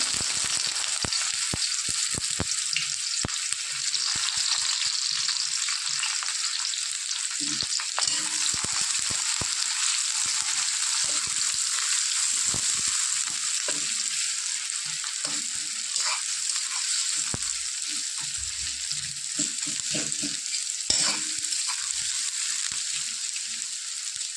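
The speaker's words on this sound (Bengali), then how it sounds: "এদিকে তেল গরম হয়ে গেছে। প্রথমে আমি পেঁয়াজটা হালকা ভেজে নেব।" Onion fries lightly in hot oil, a steady bright sizzle running throughout with frequent scraping and stirring clatters from a utensil in the pan, close and continuous with no talking.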